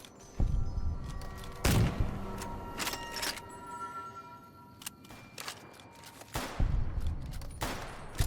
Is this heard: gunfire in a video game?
yes